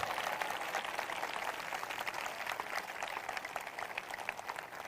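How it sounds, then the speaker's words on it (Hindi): A congregation at a prophetic prayer meeting applauds in thanks, a dense, steady patter of hand clapping heard faintly and at a distance throughout. "जिनको विश्वास है वो ताली बजाकर धन्यवाद कर रहे हैं।"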